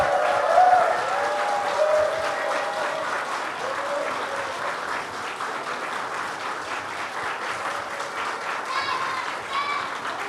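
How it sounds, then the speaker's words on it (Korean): Church congregation applauds warmly for kitchen volunteers at a summer Sunday school thanksgiving service, a sustained crowd clapping that holds steady throughout with a few voices mixed in. "박수 드리자는 말도 안 해도 박수가 막 나와요"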